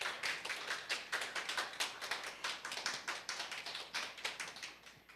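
A small group gives a lecturer a round of applause at a Seoul digital-learning special lecture, producing a brisk patter of clapping hands with distinct individual claps, fairly close and steady, with no talking.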